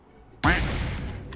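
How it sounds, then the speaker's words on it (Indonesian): A single gunshot in PUBG Mobile cracks out sharply from the midst of an open-field match, followed by a reverberant tail, with no talking. "Ada yang nembak di sana."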